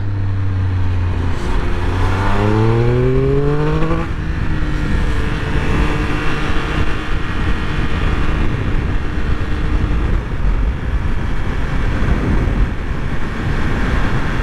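A 2021 Triumph Speed Triple 1200 RS engine revs upward through rising pitch sweeps, then holds a steady high-speed drone mixed with heavy wind rush, loud and close.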